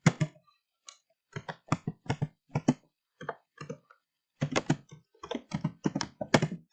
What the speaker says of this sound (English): you're typing goal met and press the tab, go to the next value if false tab and type goal unmet